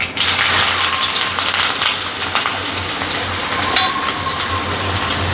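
Steady loud sizzling and crackling of onion frying in hot oil with popping mustard seeds, a continuous dense hiss close up.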